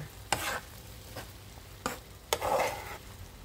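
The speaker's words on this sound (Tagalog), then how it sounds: "halu-haluin din ulit natin hanggang mag-mix sila" A few brief scraping strokes of a utensil stirring through a crepe mixture in a pan, with quiet gaps between them, close by.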